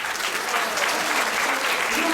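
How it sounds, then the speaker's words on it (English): Audience applause at a temple festival in Atlanta, honoring the donors: dense, steady clapping from a large crowd, sustained and even for about two seconds with no pauses. "Let's give them a big round of applause."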